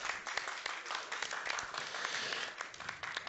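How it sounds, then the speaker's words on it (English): A modest crowd at a FreeSWITCH tech conference claps to welcome a speaker, sustained and fairly faint applause heard from a distance with scattered sharper claps. "Let's give a big round of applause for Steve Lazaridis."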